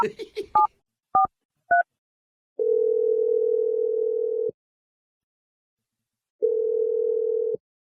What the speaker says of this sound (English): while we dial her number